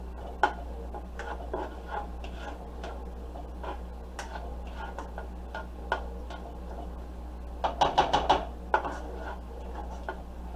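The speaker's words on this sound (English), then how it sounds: "I'm just going to get that in there mixed in with our onion." Garlic paste stirred into onions in a pan, with light scraping and tapping taps of a utensil spread sparsely, then a quick cluster of clinks near the end, over a low steady hum.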